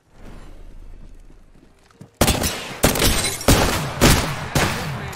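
Apex Legends gunfire: after a quiet stretch of low rumble, four or five loud, close shots crack out in a spaced, uneven rhythm, each with a short ringing tail.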